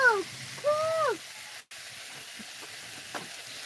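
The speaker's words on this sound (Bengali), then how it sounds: "ভীষণ জলে কাঠের উনুন কত জলে দেখো ভীষণ জলে" A wood-fired clay stove burns fiercely with a steady, low broad roar and hiss. A few thin whistling tones come and go near the start, then a brief dropout, and the even rush continues.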